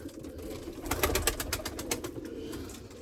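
Erzurum white breeding pigeons coo in low, throaty pulses, with a burst of several overlapping calls in the middle over a steady background of birds nearby.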